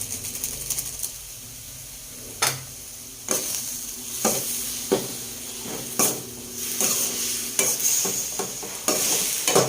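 A spatula stirs ground pork and sponge gourd with misua in a hot pan, giving repeated scraping clacks in an uneven rhythm over a steady close sizzle.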